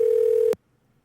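A phone call's ringing tone holds as a steady, loud single pitch for about half a second and then cuts off abruptly into near silence.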